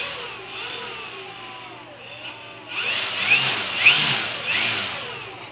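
An E-Flite 300 Extra electric model plane motor whines steadily at close range, its pitch swelling and easing in short throttle bursts over a constant high electronic tone.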